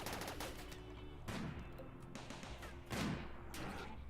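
Side turrets firing in the video game RimWorld, with bursts of muffled gunfire and thumps repeating in quick succession at moderate distance, fairly faint.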